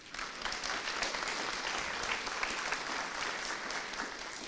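Audience applause at an awards breakfast, steady dense clapping from a large crowd, fairly distant and even throughout without talk.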